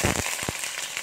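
Tofu fries in hot oil, with sharp pops and crackles bursting over a continuous sizzle, close and loud in a short burst.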